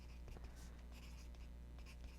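A pencil scratches across a white card base while lines are pencilled in, soft intermittent scraping strokes close by, faint and without speech.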